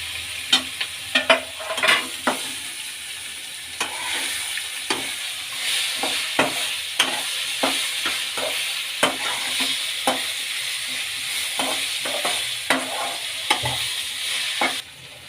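Grated raw mango is stirred in a frying pan for a mango chitranna rice dish: a spoon scrapes and taps the pan in irregular repeated strokes over a steady sizzle, close and fairly loud, with no talking.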